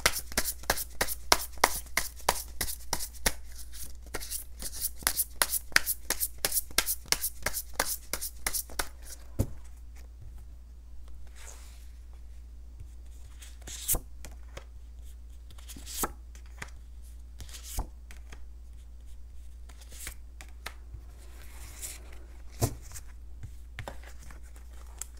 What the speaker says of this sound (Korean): 제가 오늘 추가 카드 빠르게 뽑은 다음에 본격적인 리딩 시작하도록 할게요